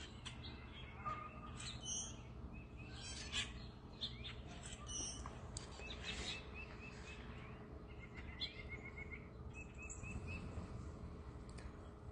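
Scattered bird chirps and calls, including doves, sound over a low, steady background rumble at sunrise, irregular and fairly faint, with no voices.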